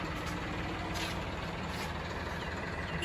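A tractor engine runs close by on a rural farm road, a steady, dense diesel rumble that holds at an even level for about three seconds with no talk over it.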